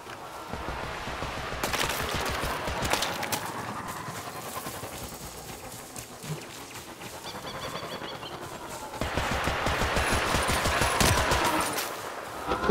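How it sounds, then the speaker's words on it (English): Sustained bursts of automatic gunfire in the Warframe video game, dense rapid shots that swell louder in two stretches, with no talk over them. "The fuck's shooting at me?"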